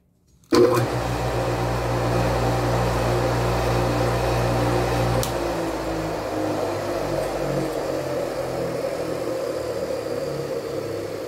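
A single-phase electric motor switches on abruptly and runs clockwise with a steady, loud hum and whine, the tone easing slightly partway through.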